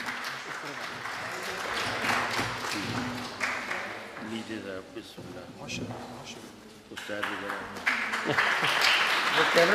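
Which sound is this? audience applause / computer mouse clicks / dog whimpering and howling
audience applause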